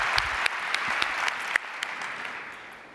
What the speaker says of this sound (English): Can we give VB a round of applause?